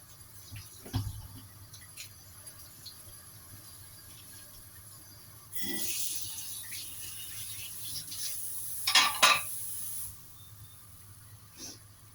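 A pot of chicken rib soup with winter melon heating toward a boil gives off faint, soft hissing and bubbling, with two louder bursts of steamy hiss rising in the middle of a quiet stretch.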